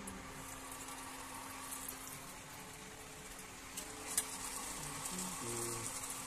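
Dal puri fry in hot oil, a soft, steady bubbling sizzle heard close but fairly quiet, with a faint clack partway through and light stirring noises near the end.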